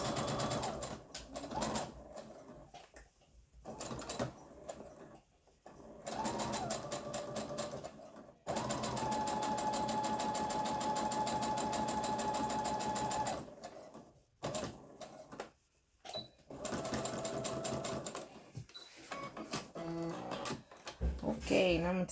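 Sewing machine stitching fabric down along a curved edge, running in several sustained bursts with brief pauses and handling noises between them, at moderate volume.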